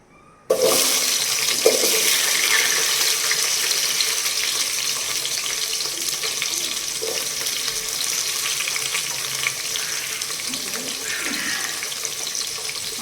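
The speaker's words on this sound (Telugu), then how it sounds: "ఇవి ఆనియన్స్ వేసుకుంటున్నాను ఫస్ట్" Sliced onions hit hot oil for chicken pulao, letting out a sudden loud sizzle that settles into a steady, close frying hiss for the rest of the clip, with a few faint clatters.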